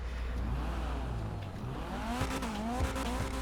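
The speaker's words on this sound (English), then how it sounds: "This one is like your typical Honda rasp" A Dinka Postlude car engine in GTA 5 revs hard with a raspy, Honda-like VTEC wail, rising and falling pitch sweeps over a steady loud drone, no talking.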